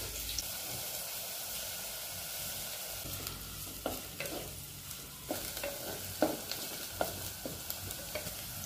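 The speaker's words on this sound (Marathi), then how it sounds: "तेल गरम झाल्यानंतर सर्वात आधी कांदा टाकलेला आहे आपण" Chopped onion sizzles in hot oil in a pan for a Maharashtrian wild-greens dish, with a steady frying hiss and scattered crackles and stirring scrapes close by.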